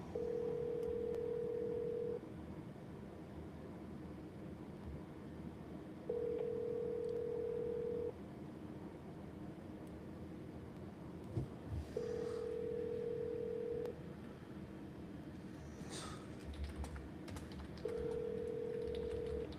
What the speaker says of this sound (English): This call is being recorded. Please hold while I try to connect you.